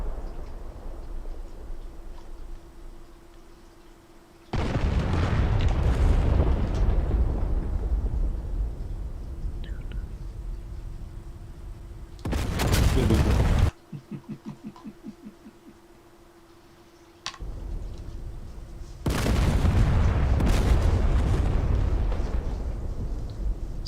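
Artillery fire and explosions in a video game battle: several heavy booming blasts, each followed by a long rumbling roar, separated by quieter stretches with a steady hum and a short burst of rapid ticking fire.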